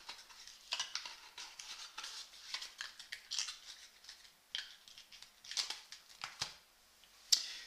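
A deck of playing cards is slid back into its box: soft, faint papery rustles and light clicking taps, irregular and close, with a sharper snap near the end.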